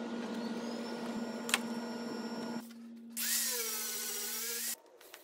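A power sander grinds metal parts for a homemade lathe stand, a steady whining hum that rises into a louder, harsher rasping burst partway through before cutting off, close and alone.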